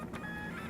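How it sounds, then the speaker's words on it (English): A Brother QL-700 label printer whirs steadily as it feeds and prints a label, a faint, even mechanical hum close by with no voices. "we're going to click the print label to network printer button"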